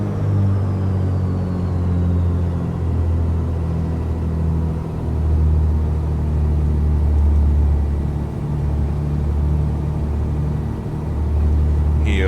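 Twin piston engines of a Black Square Grand Duke aircraft in a flight simulator, throttled back to 1500 RPM for a ground test, hold a steady loud droning rumble with slight swells, and no talk over it.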